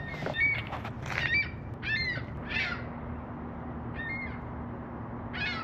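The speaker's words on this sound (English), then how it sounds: "Birds are out. The sun's shining and they're loving it." Birds call outdoors in sunshine, giving bright, repeated chirps and whistles in scattered short phrases at moderate distance over a low background hum.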